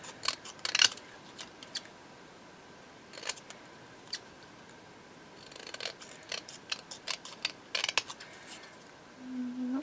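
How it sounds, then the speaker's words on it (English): Scissors snipping the edges off paper mixed media tags, close crisp cuts in scattered runs and single snips against a quiet room background. "So I'm just cutting the edges off."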